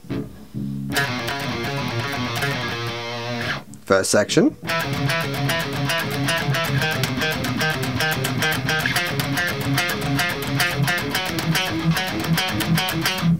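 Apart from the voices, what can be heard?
guitar playing a bridge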